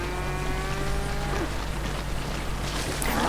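A cow lows in GTA V, a game moo over a steady low hum with a music-like tonal bed in the first half, followed by continuous mid-level ambient noise.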